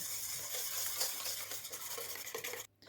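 A whisk or spoon stirs a whole egg, an extra yolk, sugar, vanilla sugar and a pinch of salt in a bowl for soft cheese bun dough, giving a continuous close wet scraping swish that stops abruptly near the end.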